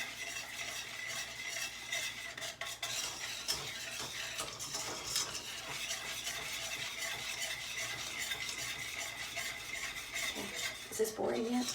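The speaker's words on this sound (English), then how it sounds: "I'm stirring away" A spoon scrapes and stirs a thick Kool-Aid play dough mixture in a pot, with continuous soft swishing and faint clinks, close and fairly quiet, with no talk.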